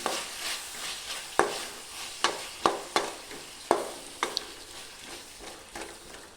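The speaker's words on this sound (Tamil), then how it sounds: "இதில் சேர்த்து நல்லா வதக்கிக்கலாம்." Chopped tomatoes sautéing in a pan for a chicken curry, a steady sizzle punctuated by a series of sharp spatula scrapes and taps against the pan, with no talk.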